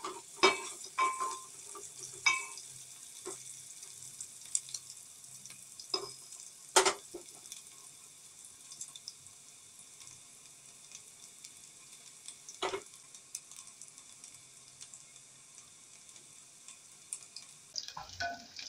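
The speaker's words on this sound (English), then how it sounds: "You keep stirring them because those at the edge will start to burn, and you do not want to burn them." Ingredients for Kenyan beef pilau fry in a pot, giving a quiet steady sizzle broken by scraping strokes and sharp clinks of a spoon against the metal.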